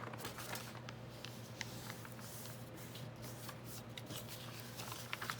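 Paper bag pages from branded bags are folded in for a junk journal, giving soft, close crinkling and rustling of paper over a low steady hum, with no talking.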